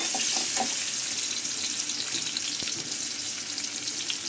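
Chopped onion frying in oil in a pan during home cooking, a steady close hiss and sizzle that runs throughout without pause.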